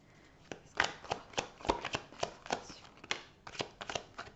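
Tarot cards being shuffled by hand, a quick run of crisp riffling slaps and flutters at close range, with no talking.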